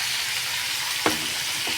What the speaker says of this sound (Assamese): ইয়াত মই নিমখ হালধি দি খুব ভাজিছোঁ